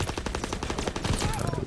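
Rapid automatic gunfire in the video game Call of Duty WWII, a steady, loud stream of closely spaced shots lasting throughout.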